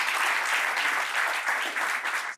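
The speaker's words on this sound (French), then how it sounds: "on peut applaudir très fort Monsieur Dike" A studio audience at a talk show applauds a guest loudly and evenly, a dense wash of clapping that stops abruptly at the end.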